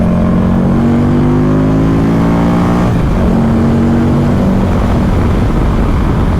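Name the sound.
Buell XB9 motorcycle engine note while riding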